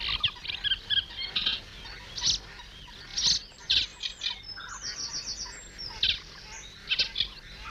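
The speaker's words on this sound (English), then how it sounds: "A resident male Chetty's warbler announces his intention to acquire property." A male Cetti's warbler sings in a reed bed, throwing out loud, abrupt bursts of rapid high chirping notes with short pauses between phrases over a quiet background.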